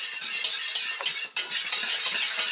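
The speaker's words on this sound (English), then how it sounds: "And then just keep stirring and scrubbing" Mornay sauce simmering in a pan, stirred and scraped with a utensil in quick, rhythmic strokes, close and bright with a steady bubbling hiss and no talking.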